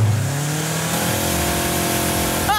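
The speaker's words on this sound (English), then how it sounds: "I'm going to hit the throttle and." The Maverick flying car accelerates hard on throttle, its engine note climbing in a loud, steady rising rev that fills the whole stretch, heard close with no talking.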